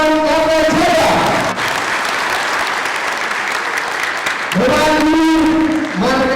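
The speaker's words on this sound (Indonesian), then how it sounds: "Buat tepuk tangan yang meriah, Bapak Hermawan Kartajaya," Loud, sustained audience applause filling a hall as a marketing speaker is welcomed at a business event, with an announcer's voice over it at the start and end.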